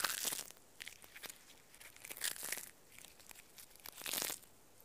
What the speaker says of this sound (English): the leaves, shaped like this, give the most pleasant crunchy noise